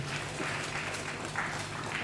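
Applause from an audience at an International Missing Children's Day event, a steady, even wash of clapping that carries on without a break for the whole stretch.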